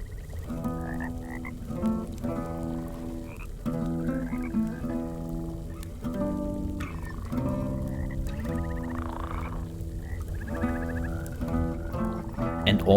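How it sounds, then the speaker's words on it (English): Frogs croak in the video game Mortal Shell, a dense chorus of loud, rhythmic, throaty calls repeating in overlapping bursts throughout. "And all the frogs are my audiences."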